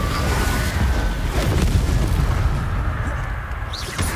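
A Confringo spell explosion in Hogwarts Legacy erupts as a sustained deep, rumbling boom that stays loud and dense throughout, with no voices over it.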